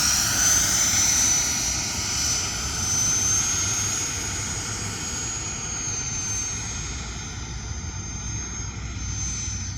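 An E-flite 80mm F-16 electric ducted-fan RC jet flies past a runway, its high whine and rushing roar steady and fairly loud, rising and easing gently as the model passes.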